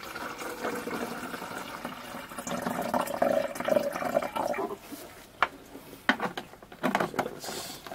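About 400 millilitres of distilled water pours into a container with a bubbling, filling sound while mixing film developer chemicals, then stops, followed by a few clinks and handling noises.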